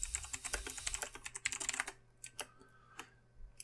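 Typing on a computer keyboard: a quick run of close, crisp key clicks for about two seconds, then a few scattered taps after a pause, alone with no voices.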